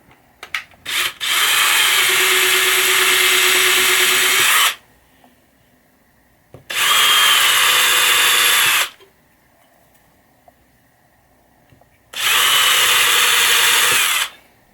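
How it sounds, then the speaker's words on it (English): A power drill whines in three loud bursts of a few seconds each, boring a pilot hole into the wooden playfield of a 1980 Williams Firepower pinball machine, with quiet pauses in between. "Now I'm going to actually drill down into the playfield to get a pilot hole going."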